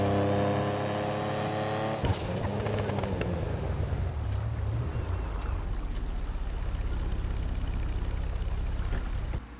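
A removed car in GTA Online revs its engine hard, a loud harmonic whine that drops into a roaring acceleration and sustained engine drone, close and alone.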